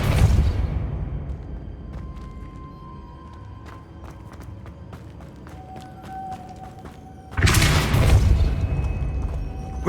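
A Depulso spell cast in Hogwarts Legacy, heard as a deep whooshing boom that fades into a quiet stretch of faint clicks and ticks before a second loud rumbling burst.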